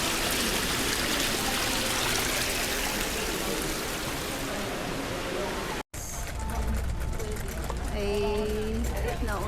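A mountain stream near Kobe, Japan, flows in a steady, full rush for most of the clip, then drops to a quieter trickle after a brief cut, with a voice and other faint sounds coming in late.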